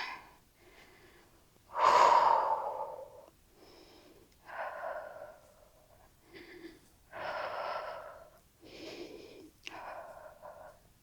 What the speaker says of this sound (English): Breathing here, looking right ahead for balance.